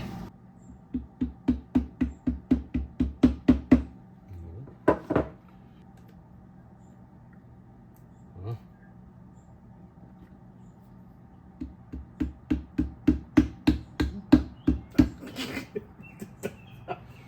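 Rapid series of gentle, light hammer taps on a 1962 Triumph TR4 overdrive in quick bursts, a pause with a couple of isolated knocks, then another run of soft tapping.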